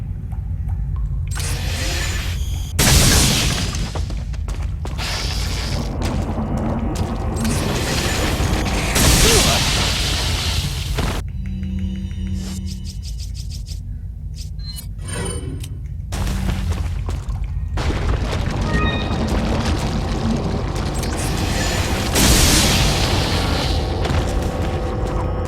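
Repeated booming gunshots from a weapon in Resident Evil 4, loud and dense with mechanical clatter between blasts, one near-continuous barrage over game sounds and music.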